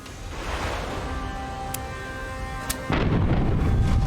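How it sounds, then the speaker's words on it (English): Ship cannons in the pirate game Tortuga: A Pirate's Tale fire over steady ocean surf, with a couple of sharp reports in the middle and a loud, sustained booming blast near the end. "these cannons are put in work today"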